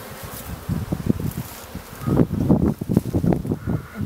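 Calm honeybees drone around an open hive, a soft close buzz rising and falling in short pulses, with light rustling and a slightly louder stretch of buzzing toward the end.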